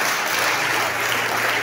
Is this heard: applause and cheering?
yes